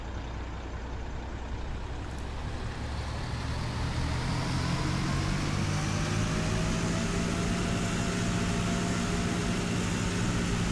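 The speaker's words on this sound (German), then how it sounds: "Motor an." A Fendt tractor engine idles steadily in Farming Simulator 2013, a continuous loud rumbling drone with no talking over it.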